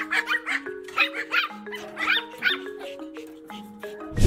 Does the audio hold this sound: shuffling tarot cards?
no